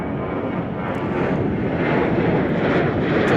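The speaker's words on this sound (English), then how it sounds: "Boeing 767 over here." A Boeing 767 airliner landing at Chicago O'Hare, heard as a loud, steady broadband roar of jet engines that builds slightly and holds for a few seconds, with some wind buffeting and no talk.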